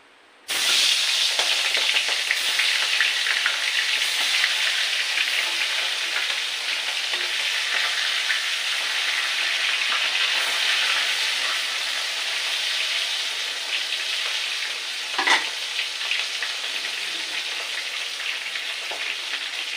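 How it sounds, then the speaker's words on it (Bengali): Fish rubbed with salt and turmeric sizzles and spits in mustard oil in a wok, a steady dense frying hiss running throughout, close and loud, with one brief sharper crackle near the end and no talk. "এই মাছটা ভাজি হচ্ছে সরষের তেলের"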